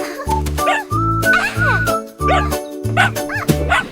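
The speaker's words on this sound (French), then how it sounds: "Le chiot rouge saute avec un aboiement joyeux." A small dog yips and barks in quick, high-pitched bursts, close and loud, with a faint jingle between the barks.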